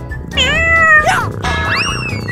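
A cat meows repeatedly and loudly up close, with several drawn-out rising and falling cries in quick succession.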